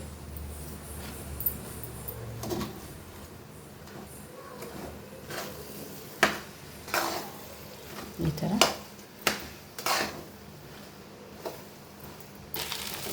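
A tomato egg rice mixture is stirred in a pan with intermittent scraping and clanking strokes over a faint sizzle, with spoon knocks growing more pronounced toward the end.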